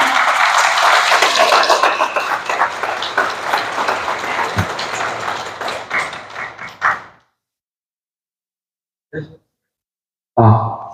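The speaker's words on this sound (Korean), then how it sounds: "연대에 뜨거운 박수 부탁드립니다." Warm applause from a crowd at a civic memorial ceremony held in a cathedral, dense clapping for about seven seconds that fades out, followed by silence and a couple of brief isolated sounds.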